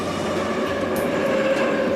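Moscow metro trains rolling past just behind a door, a steady muffled rumble with faint rail clatter and a brief high squeal, continuous and fairly close.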